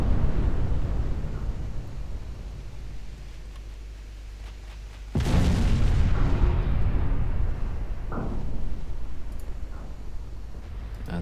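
A warship suffers a flash fire explosion in Ultimate Admiral Dreadnoughts: low rumbling naval gunfire first, then a sudden loud blast around midway that rolls into a heavy sustained roar, with further distant booms afterward.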